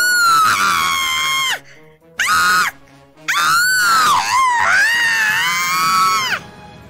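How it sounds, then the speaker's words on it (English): A person screams loudly into a microphone in several long, close, piercing bursts separated by short pauses, with pitch rising and falling through each cry. "Okay, let me scream."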